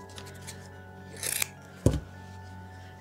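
Scissors snip through a small piece of material for a Halloween bowling-pin mummy craft, giving a short rustling cut followed by one sharper snip against a quiet background.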